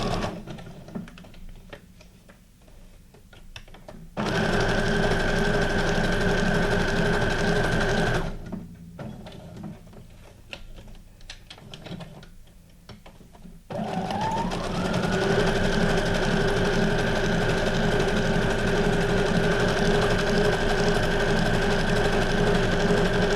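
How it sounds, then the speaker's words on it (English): Loud, close sewing machine stitching through junk journal pages in long fast runs, starting and stopping twice with quieter rustling and handling between runs before a final sustained burst. "I'm sewing fast today too."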